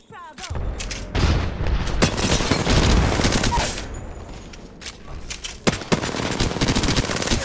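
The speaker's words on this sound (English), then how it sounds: "I'm getting shot at." Gunfire in the video game Apex Legends: dense, loud automatic bursts and booming shots overlap continuously, with sharp single cracks toward the end and game voice callouts mixed in.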